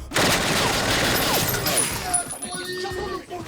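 Gunfire effects burst out during a film shoot, dense fusillade-like cracks close and loud for about two seconds, then trail into scattered fainter noises with voices talking over the action.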